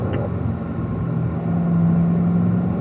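A race car accelerates out of a corner on the Ron Fellows Springhill track, its engine a steady, rising drone heard from inside, with a faint tonal whine building toward the end.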